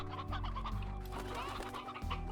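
Chickens cluck in the Slime Rancher video game, a short burst of close, repeated clucking calls over a sustained background tone, with no one speaking.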